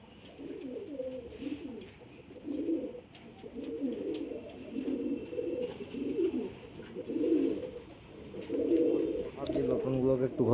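Lotan pigeons coo in repeated soft, rolling bursts close by, the low throaty calls overlapping one another with a faint background hiss throughout.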